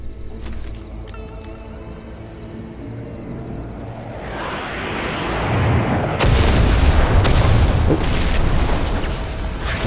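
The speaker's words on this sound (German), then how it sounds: "Dann setzen wir hier mal Luftschlag rein" Airstrike explosions in Far Cry 5 build into a loud, sustained rumbling roar of blasts that swells midway and stays heavy and dense to the end, with music faintly underneath at first.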